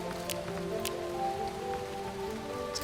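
Steady rain patters continuously in the Starbound video game, a soft even wash of drops with a few brighter taps, with no talk over it.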